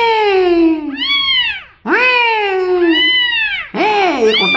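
A cat meows loudly three times in a row, long drawn-out wailing calls with rising and falling pitch, close by.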